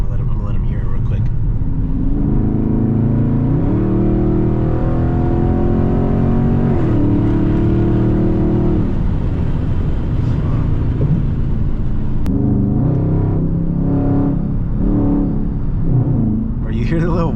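A straight-piped Dodge Scat Pack engine revs loud and close, its deep note climbing and falling in repeated pulls over a constant rumble. Voices speak around the revs.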